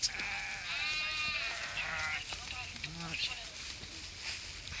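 Sheep bleat several times outdoors in a pigeon-pea field, wavering cries rising and falling over a low background murmur.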